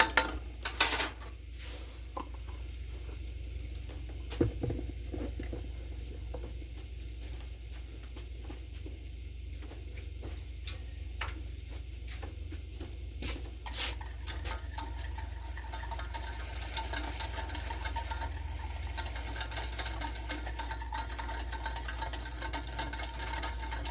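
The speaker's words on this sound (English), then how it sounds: "Then I'm going to whisk this together really good." A whisk rattles against a bowl as ingredients are beaten together, fast irregular clicking and scraping that grows denser and steadier after an uneven start, close up with no talking.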